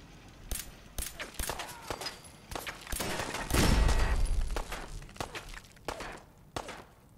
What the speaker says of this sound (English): Someone's shooting the wall below me.